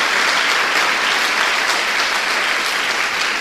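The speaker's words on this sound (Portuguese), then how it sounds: "Dê uma salva de palmas a Jesus." A church congregation claps together, a dense, steady round of applause that stays loud and even throughout, with no voices standing out.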